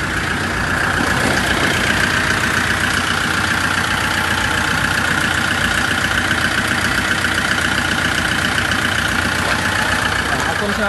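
A 2005 Kia Bongo 3 1.4-ton wing-body truck engine idles close and loud, a smooth, even diesel chug that runs continuously after a brief quiet start, with someone talking over it.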